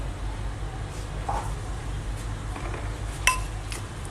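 Food is scooped onto a plate with scattered light clinks of dishes and utensils, including one sharper clink near the end, over a low steady background rumble.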